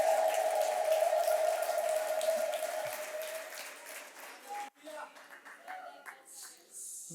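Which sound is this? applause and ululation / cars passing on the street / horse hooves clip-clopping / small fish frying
applause and ululation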